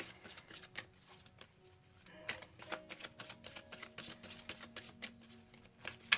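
Oracle cards from the Miracles Now deck by Gabrielle Bernstein being shuffled and pulled, close and quiet, with a run of soft papery riffles and flicks and several sharper snaps near the end.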